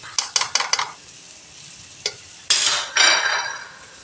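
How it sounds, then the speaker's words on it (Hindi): Boiled minced meat (keema) with fried masala being stirred in a pan: a few quick scraping strokes, then bursts of sizzling frying, close and clear with no talk. "अब हम इसको अच्छी तरह से फ्राई करेंगे कीमे को"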